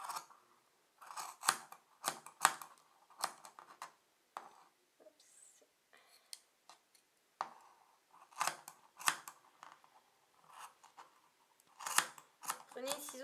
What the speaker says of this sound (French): Prenez un ciseau qui coupe bien.